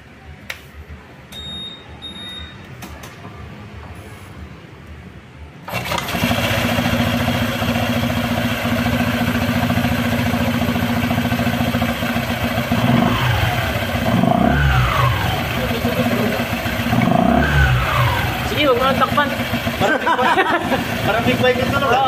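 A Honda ADV150 scooter engine starts after quiet background talk, settling into a steady loud idle with several rising revs later on, while people speak nearby.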